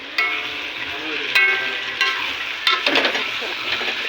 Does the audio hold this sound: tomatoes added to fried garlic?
yes